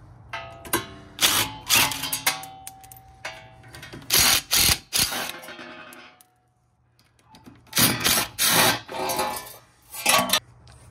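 A ratchet working loose the 10mm bolts of a brake dust shield on a Dodge Charger, loud close bursts of rapid clicking in several runs separated by short pauses.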